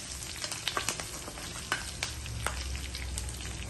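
Chana dal, garlic and red chillies with cumin and curry leaves frying in a pan, a soft steady sizzle with several clinking spoon stirs, close and alone without talk.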